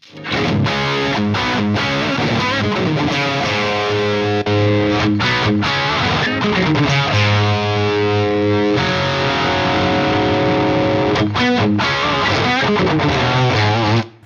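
A loud, driven electric guitar plays crunchy chords and riffs through the bright, Plexi-like channel of a Bogner Helios Eclipse amp, not cranked, with brief choppy breaks, the tone bright and saturated throughout.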